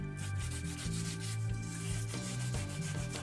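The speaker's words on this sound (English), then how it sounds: "I'm just using a bit of sandpaper there just to sand off any rough edges around the mold" Sandpaper rubbing along the rough edges and legs of a fibreglass mold, a close, steady back-and-forth scraping in quick regular strokes, with no voices.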